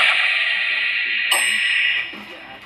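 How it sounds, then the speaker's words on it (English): A bell rings with a bright, sustained tone, then a sharp strike cuts in midway before the ringing drops away near the end; close and loud, with faint voices underneath. "The bell's cool, right?"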